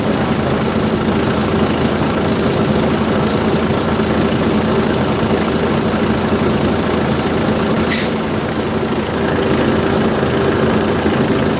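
A Freightliner M2 truck engine idles steadily, a constant close diesel rumble with a high whine running through it and a brief hiss near the end, with no talk over it.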